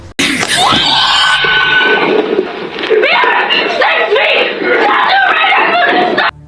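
A young woman screams loud and close in a scene from the film Taken, desperate and sustained, with sobbing cries and strained breaths mixed in across several seconds.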